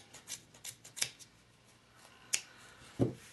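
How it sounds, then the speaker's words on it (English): Scissors trimming through yarn loops wrapped on a fork to shape a pompom, heard as a few faint, sharp snips and rustles spaced out over a quiet background, with no voices. "I'm going to take my scissors and I'm just going to trim through all of the loops."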